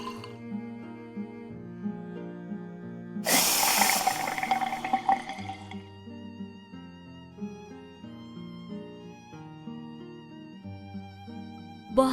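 A home soda maker injects gas into a bottle of water, a loud rushing hiss lasting a few seconds midway, set against steady background music before and after.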